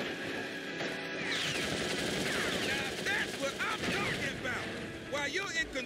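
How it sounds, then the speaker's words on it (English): Rapid turret gunfire in the Crash Tag Team Racing racing game, dense bursts of shots over engine noise and game music with chirpy effects, steady and loud throughout. "You're in control of a turret gun."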